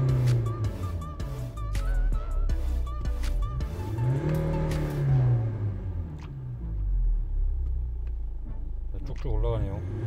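A car engine runs at idle after its air flow sensor has been cleaned, a low steady rumble with a brief rise in pitch midway, heard close up with mechanical clicks and rattles over it.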